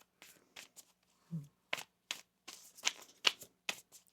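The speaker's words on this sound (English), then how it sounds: "One more shuffle here." Oracle cards are shuffled in quick, crisp bursts of riffling and slapping, quiet and close, separated by short pauses.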